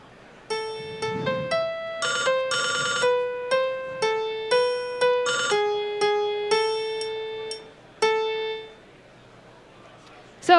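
Computer-rendered music plays a thin synthetic melody of short plucked and beeping notes in a steady stepwise rhythm, with parts of the arrangement missing so it sounds sparse and uneven, ending in a sudden loud burst.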